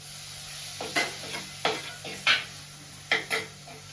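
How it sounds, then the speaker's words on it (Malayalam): Ginger, green chilli and garlic sauté in a pan. A steady sizzle runs underneath while a spoon stirs and scrapes in several distinct strokes, close and clear. "ഇഞ്ചി പച്ചമുളകും വെളുത്തുള്ളിയും കൂടി ഇതാ വഴറ്റാണ്."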